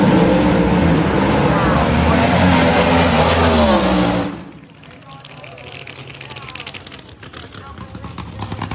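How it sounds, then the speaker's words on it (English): A drag race car engine revs loud and close, a dense roaring buildup that cuts off sharply partway through, leaving quieter crackling and distant noise with talk. "That RPM starts coming up on Brad Thompson."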